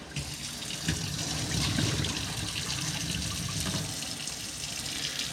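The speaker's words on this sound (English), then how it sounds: "Pour out the water." Rinse water being poured out of a pot of rice in a kitchen sink, a steady splashing and trickling stream lasting several seconds at close range.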